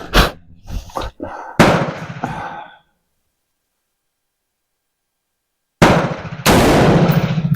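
Rapid bursts of M4 rifle fire while a green laser sight is zeroed: dense, loud volleys of shots in the first few seconds, then a long silence before another sharp run of close rounds.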